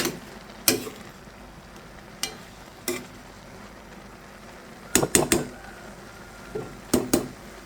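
Fried ash gourd with red lentils is stirred in a pan, giving scattered scraping and clinking knocks, a few single hits and quick double clusters, over a faint low sizzle with no talk.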